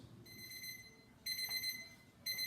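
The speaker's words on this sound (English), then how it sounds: "The magic buzzer." An oven timer beeps in three evenly spaced bursts, each a bright, buzzy tone lasting about a second over a quiet background.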